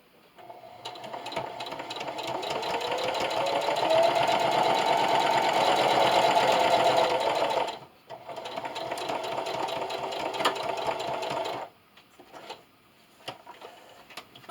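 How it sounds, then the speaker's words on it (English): A sewing machine stitches around the edge of a towel square, a steady rapid mechanical whir lasting several seconds, pausing briefly, then resuming before slowing into short bursts near the end. "Now I'm going to continue to sew until I get back here where I started and back stitch."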